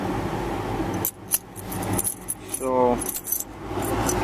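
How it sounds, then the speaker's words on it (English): Jangling of a new set of keys, a short metallic clinking burst near the middle rising over steady background hum, with one brief spoken word just before. "I got my new keys"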